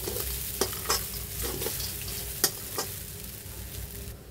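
Sabudana khichdi with fried peanuts is stirred in a pan over soft frying sizzle, with intermittent scraping strokes of the spoon, fairly quiet and close, no talk.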